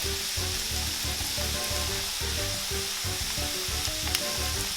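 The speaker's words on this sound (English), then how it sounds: "Doesn't take very long for them to fry up." Empanadas frying in hot oil, a close, dense bubbling sizzle that crackles steadily throughout with faint rhythmic pulsing, no voices.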